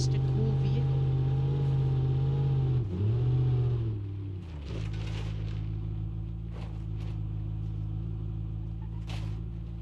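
A game off-road vehicle's engine in BeamNG Drive drones steadily at a low pitch while driving on an island road, dipping briefly midway before settling back to a constant hum, with a voice talking over it.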